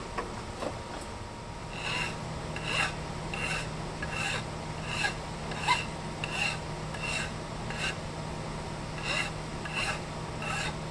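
Hand filing a bevel on a metal organ pipe body, a steady series of rasping strokes repeating at an even pace, close and fairly loud over a constant low background hum.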